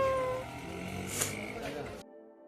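A cat meows outdoors on a cold, quiet morning along the Brahmagiri trek, a short tonal call near the start that fades into soft background noise before cutting off abruptly.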